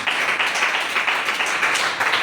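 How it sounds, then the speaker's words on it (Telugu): A church congregation claps loudly, a dense and continuous wash of many hands filling the room with no pauses. "చప్పట్లు కొట్టండి గట్టిగా."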